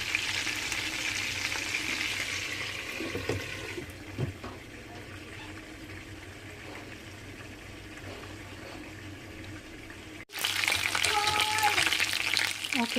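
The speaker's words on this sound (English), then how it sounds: "I actually put a lid on my frying pan so the chicken will cook" Chicken sizzles and crackles in a frying pan, dampening for a while under a lid before bursting back to loud frying near the end.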